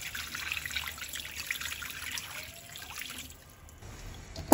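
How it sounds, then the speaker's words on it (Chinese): Water trickles and splashes into a pot holding pork stomach, scallions, ginger and rice wine, a soft steady pour that fades out and ends in a brief clunk. "再加入多一些的清水"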